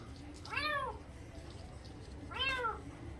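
A rescued kitten meows twice, a few seconds apart, each cry short and rising then falling, over a quiet background hiss.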